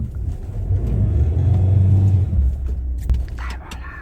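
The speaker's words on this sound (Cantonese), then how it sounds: "只能靠一腳油門衝過去了" A car engine revs hard and holds a deep, steady roar, trying to power through snow at minus 12 degrees near Kanas in Xinjiang; the rumble is loud and close, then eases off near the end.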